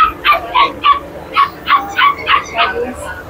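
Dogs at a pet market bark in a steady run of about nine short yips and barks, fairly close, with a faint whimpering edge and market chatter underneath.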